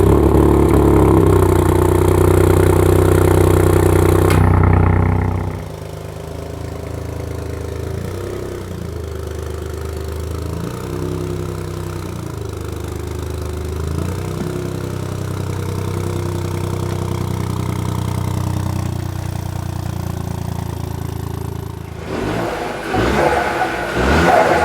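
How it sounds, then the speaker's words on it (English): A Ford Fiesta ST's small three-cylinder engine runs steadily after a loud opening burst, holding a low, even idle with a close microphone for around seventeen seconds before a rougher clattering rise near the end. "Oh yeah, listen to that, we'll get the mic close. Hear that? Call that the baby 3-cylinder."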